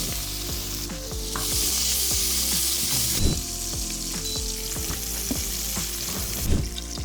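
Asparagus sizzles and fries steadily in a pan, a continuous hiss with occasional stirring and utensil clatter, close and moderately loud.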